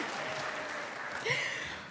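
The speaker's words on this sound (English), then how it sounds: "round of applause for Rob" Applause from a room of attendees at a university staff service and recognition awards ceremony, a soft, steady patter of clapping heard at a distance for two seconds.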